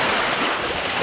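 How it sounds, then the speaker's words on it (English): Waves breaking and splashing steadily around a kayak at an inlet, a loud, dense wash of water close by with no voices. "Stick this inlet over here so the waves aren't so big."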